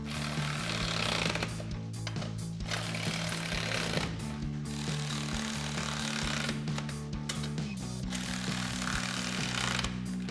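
A power socket tool drives 13mm bolts on roll bar brackets of a 2007-2018 GMC Sierra 1500, a loud, continuous buzzing whir in about three long bursts separated by brief pauses, close up with no talking.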